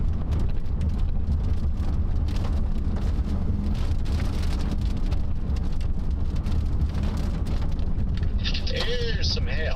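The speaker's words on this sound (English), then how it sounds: "Here's some hail." Hail and heavy rain from a supercell storm drum hard on a vehicle, a dense, loud, constant patter with low rumbling beneath, while people talk over it near the end.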